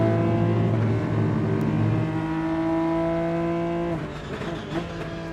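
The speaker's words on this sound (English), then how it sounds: "The engine noises are okay, but I feel like they could be from the other car coming past." A steady, droning racing car engine in the game Rennsport holds a high pitch, then the tone shifts and roughens as another car passes.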